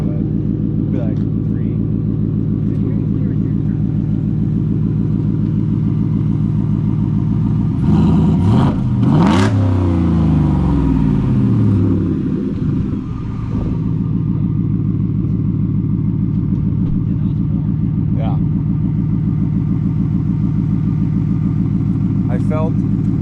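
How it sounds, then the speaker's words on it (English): A 2025 Ford F-150 with an SPD Y-pipe and Speed Engineering cat-back exhaust idles with a deep, steady rumble, then revs sharply once for a few seconds before settling back to idle, while people talk nearby. "I felt the puff of exhaust just go."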